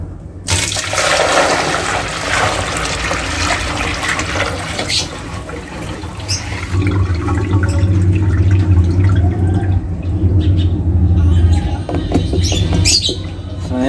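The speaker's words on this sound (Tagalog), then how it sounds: "dapat buhusan natin ng tubig. Kumbaga i-flush natin siya bago pa man matuyo yung adhesive o kaya simento" A newly installed toilet bowl flushed before its adhesive or cement sets: a loud, close rush of water that surges, swirls and drains steadily, then gives way to gurgling and refill trickles.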